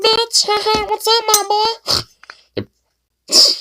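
A voice imitates the squeaky, high-pitched sound of someone who has inhaled helium, delivering a few quick phrases up close and then falling quiet in a short gap before one more squeaky burst.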